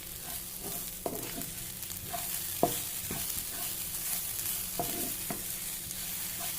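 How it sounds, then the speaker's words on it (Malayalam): Grated coconut frying in hot coconut oil for sambar gives a steady sizzle, with a few sharp scrapes and clinks of stirring against the pan, close and alone. "നമുക്ക് തേങ്ങ ഇതിലിട്ട് വറുത്തിട്ടണം"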